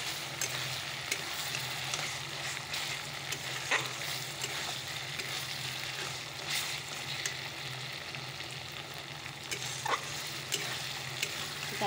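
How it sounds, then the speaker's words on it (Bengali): Spice masala with garlic being stir-fried in a pan makes a continuous, fairly loud sizzle broken by frequent scraping stirs of the spoon throughout. "তো চলো মশলাটাকে ভালো করে কষিয়ে নিই,"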